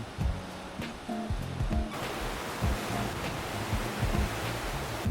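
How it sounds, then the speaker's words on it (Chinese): Fast-flowing Reuss River rushing through Lucerne, a steady, loud broadband roar of churning water that fills the whole stretch, with a few faint tonal sounds over it early on. "这条贯穿卢塞恩的罗伊斯河流速特别快，水声轰鸣。"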